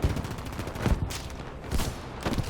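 Bursts of gunfire in Battlefield V, dense rapid volleys of shots in several clusters, loud and close with a booming low end, no talk over them.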